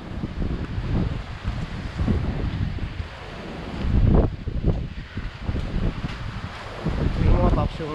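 Strong gusting wind during bad weather in Saudi Arabia, a loud buffeting roar against the microphone that swells and eases in surges.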